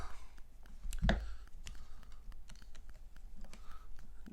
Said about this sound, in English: I'm going to clip the excess off right here, just like so